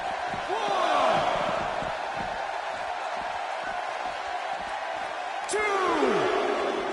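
Arena crowd cheering in the WWE 2K16 wrestling video game, a continuous loud roar with whistles and whoops, swelling at the start and again near the end, under a commentator's voice.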